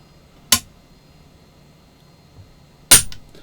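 A Remington Rolling Block #5 shotgun's heavy trigger pull snaps the action with a sharp metallic click, followed by a second louder click about two seconds later, close and dry in a quiet room.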